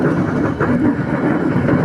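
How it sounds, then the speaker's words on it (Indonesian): From aboard a local commuter train arriving at Cicalengka station on the Haurpugur–Cicalengka line, a loud, continuous low rumble of rolling wheels and carriage noise rises, with no voices. "sebentar lagi kereta yang kita naiki akan tiba di stasiun Cicalengka sebagai tujuan akhir kereta lokal ini"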